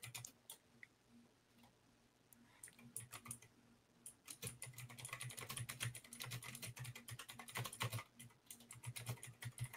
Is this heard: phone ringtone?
no